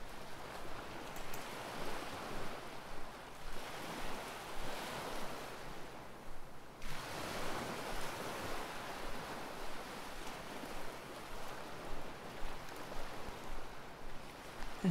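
Waves wash steadily onto the Thames foreshore beach at Execution Dock in London, a continuous surging hiss that swells and recedes in slow rhythm, with wind buffeting the microphone and no voices.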